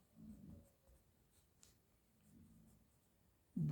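Pen scratching across paper in short, quiet strokes, with faint bursts of writing separated by brief pauses.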